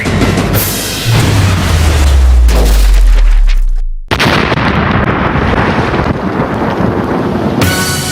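An Indian Navy ship fires a missile at sea: a loud roaring launch blast builds and rumbles for several seconds, cuts off, then a second sustained roar of rocket exhaust and wind follows.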